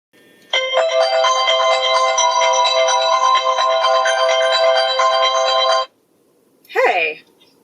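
An incoming-call ringtone plays through a car's aftermarket Carplay screen, a steady electronic melody ringing loud and clear for about five seconds before cutting off, followed by a brief voice.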